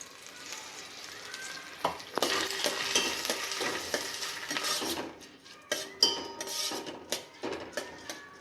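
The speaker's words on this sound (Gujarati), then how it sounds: "થોડી વાર ચોખાને શેકાવા દઈશું ધીમા તાપે." Soaked rice roasting in a pan over a low flame for a Gujarati doodh pak, with a steady sizzle and frequent scraping, clinking stirs of a metal spoon against the pot.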